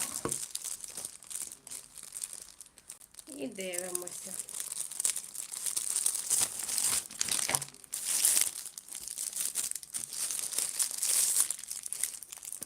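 Crinkly plastic rustling and tearing as a packet is opened, close and fairly loud, with a person talking over it.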